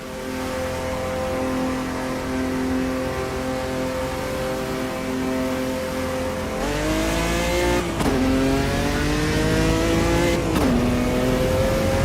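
Chevrolet Opala stock car engine in the racing game Automobilista 2, a steady loud droning hum with rising and falling revs, sharp gear changes near eight and ten and a half seconds, alone without talk.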